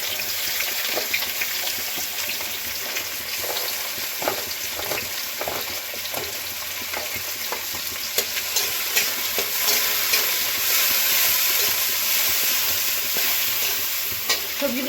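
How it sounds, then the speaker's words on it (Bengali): Onion and green chili hit hot oil in a pan, giving a loud, bright, steady sizzle close up, with frequent clicks and scrapes of stirring and a faint trickle of water, with no speech. "এদিকে তেলটা গরম হয়ে গেছে, দিয়ে দেবো পেঁয়াজ,"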